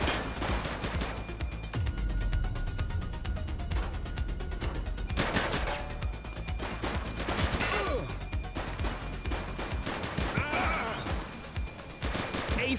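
A police shootout in The Precinct: repeated gunshots and bursts of fire crack through a busy game mix of impacts and crashes, with radio-style voices speaking intermittently.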